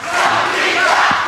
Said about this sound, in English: The crowd chanting Sangita